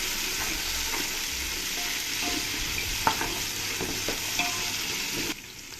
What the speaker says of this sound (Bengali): টমেটোগুলো দিয়ে ভালো করে পেঁয়াজের সঙ্গে মিশিয়ে নেব।